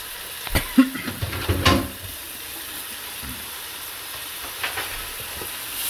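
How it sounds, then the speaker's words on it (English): A pork loin slice frying in a pan, with a soft continuous sizzle beneath a few knocks and scraping handling sounds early on, then settling into a quieter steady fry. "Let this fry up good"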